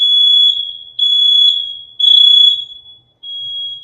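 A building fire alarm shrills in high, piercing pulses, sounding in repeated bursts of about a second each with short gaps and one longer pause, loud and steady with no talking over it.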